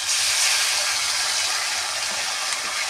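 Ground spice paste hits fried potatoes in a pan and raises a dense, continuous hiss and sizzle that stays loud and even throughout.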